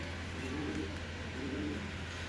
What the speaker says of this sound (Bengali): এটা একটা গোল্ডেন নর কবুতর